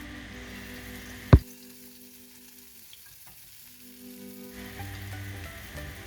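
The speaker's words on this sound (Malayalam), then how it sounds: "ഇനി നമുക്കിത് കുറച്ച് ഓയിലിൽ ഫ്രൈ ചെയ്തെടുക്കണം." Whole, uncut masala-coated eggs fry in hot oil for an egg masala gravy, giving a steady close sizzle that opens with one sharp metallic clank, dips quieter midway, then swells back up.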